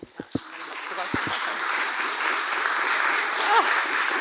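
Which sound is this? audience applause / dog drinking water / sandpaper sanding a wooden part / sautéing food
audience applause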